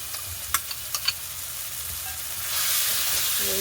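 Carrots are stirred into a tomato mixture frying in a pan, with a few light clinks and scrapes early on over a steady sizzle that grows louder and hissier toward the end, with no voices.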